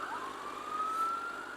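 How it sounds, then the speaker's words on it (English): An ambulance siren wails on a city street, one long rising-then-steady tone sounding fairly close and clear, heard from a passing motorcycle. "this ambulance is going the wrong way"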